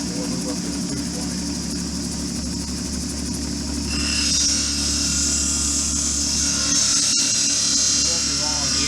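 An 80 grit wheel grinds an Apache tear obsidian stone, giving a steady motor whine and buzzing abrasion that grows louder and brighter partway through as the stone presses against the wheel, with a voice talking over it.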